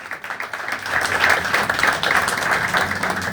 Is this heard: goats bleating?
no